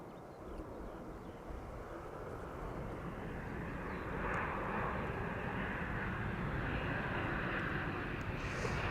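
An Airbus A319 airliner at Amsterdam Schiphol gives off a steady, broad jet roar that holds for the whole stretch and swells slightly midway, with no voices over it.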